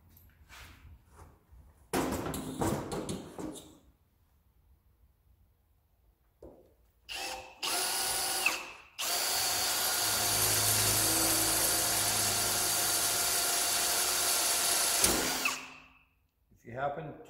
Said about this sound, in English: you can just tip the drill a little bit and move it over to where it centers in the hole